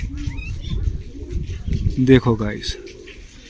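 A male pigeon coos close by in a series of soft, rhythmic throaty calls, with someone talking over parts of it.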